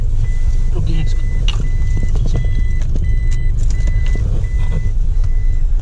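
A 2022 Toyota Fortuner automatic sounds its reversing alarm after being put in reverse: a steady string of evenly spaced beeps over a running engine, with people talking close by.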